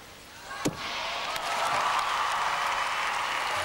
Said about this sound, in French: Elle est très applaudie, aussi applaudie que les gymnastes allemands